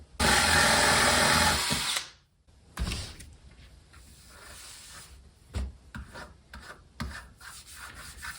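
A power drill with a step bit bores the end pin jack hole in an acoustic guitar's wooden body, a loud, steady whirring grind for about two seconds that cuts off sharply, followed by quieter scraping and handling sounds.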